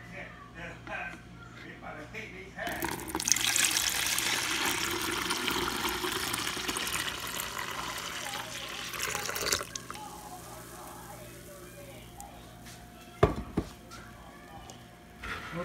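Brewed tea poured into a container in a home kitchen, a steady rush of liquid lasting several seconds at close range, followed by quieter handling and a sharp knock, with a person talking around it.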